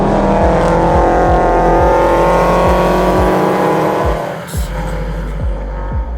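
A Pro Steed Subaru BRZ time attack car laps Sydney Motorsport Park, its engine loud and close, revving up repeatedly through rising gear pulls with sharp shift breaks, then easing off briefly before picking up again.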